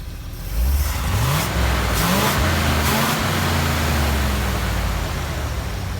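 A 1967 Chevy C50 truck engine running after a carburetor rebuild: a loud, close rumble that revs up and settles into a steady idle, with the pitch rising and falling a few times and no talking.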